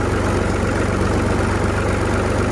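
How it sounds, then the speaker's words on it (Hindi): A tractor engine runs steadily at low revs as a ride begins on a farm in rural Punjab, loud and close, its even pulsing throb filling the whole stretch with no talk. "ये जी ट्रैक्टर की राइड हमारी स्टार्ट है।"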